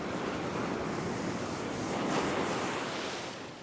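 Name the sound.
ocean waves breaking on the shore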